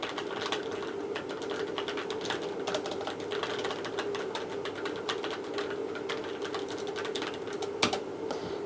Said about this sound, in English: I'm clearly not typing on anything, but you guys can hear the space bar.